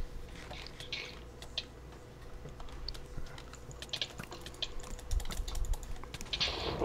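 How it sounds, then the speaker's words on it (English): Rapid clicking of computer keyboard keys during a Minecraft Hunger Games match, irregular bursts of close, quiet taps with short pauses, heard alone without talk. "I was typing."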